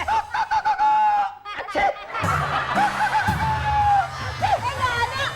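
A voice imitates a hoarse, sickly chicken, with honking clucks and squawks broken by coughing sounds, followed by a few seconds of talking.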